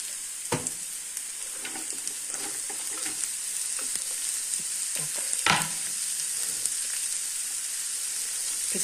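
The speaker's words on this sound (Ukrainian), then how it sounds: "Підсмажуємо ще з морквою цибульку." Chopped onion and carrot fry in a pan with a steady, fairly quiet sizzle, broken by a few sharp clinks and scrapes as the vegetables are stirred.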